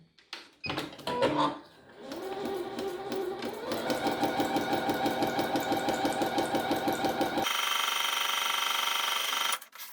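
A sewing machine runs with only the needle and no thread, stitching along a practice line: a few short uneven bursts at first, then a fast steady mechanical rattle that rises in speed and stops abruptly near the end.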